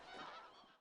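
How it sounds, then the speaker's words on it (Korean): A flock of migratory winter geese, including greater white-fronted geese, at Junam Reservoir in Changwon, Korea, honks in a dense, loud, continuous chorus of overlapping calls throughout the brief moment, cut off abruptly at the end. "겨울 철새들의 울음소리가 울려 퍼집니다."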